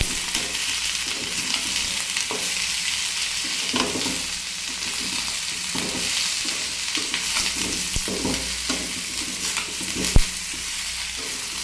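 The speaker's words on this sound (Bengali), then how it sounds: "এখন আমি সব সবজি এবং ডাল একটু ভেজে নেব" Mung and masoor dal fried together with yardlong beans and tomato in a pan: a steady, close sizzle runs throughout, broken by soft scraping and clinks as a spatula stirs the mixture.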